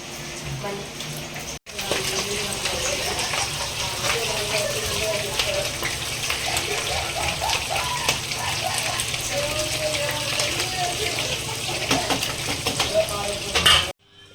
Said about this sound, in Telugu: ఎర్ర గారేదాకా ఆయిల్లో డీప్ ఫ్రై చేయాలి.